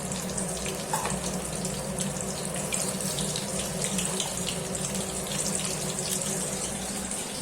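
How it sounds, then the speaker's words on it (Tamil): Food deep-frying in hot oil for a vegetarian curry, a steady dense sizzle with fine crackling running unbroken throughout, close and fairly loud with no talking. "எண்ணெய் சூடாயிடுச்சு இதை நம்ம நல்லா போட்டு பொறிச்சு எடுக்கணும்"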